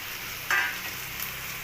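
Boiled, chopped potatoes tipped into a hot pan for a home-style potato sabji, with a sudden burst of sizzling on contact that settles into a steady, close frying hiss.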